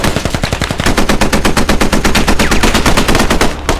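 Sustained automatic machine gun fire in the Squad military shooter game, a rapid, steady stream of loud close shots lasting several seconds with no talking.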